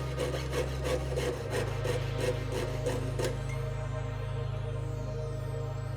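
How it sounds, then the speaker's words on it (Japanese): Fine, rapid rasping strokes of a jeweler's saw evening out the cut in a silver chain bracelet before welding, a faint, steady rhythmic scratching over a constant low hum that stops partway through. "溶接の準備のため切れ目を糸のこで均一に整えます。"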